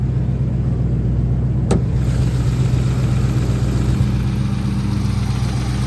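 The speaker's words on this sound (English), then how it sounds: "Motor running good." A Chrysler 300 SRT with the 392 engine idles steadily, a low, even mechanical rumble running throughout, with a brief sharp transient near the middle and no voices.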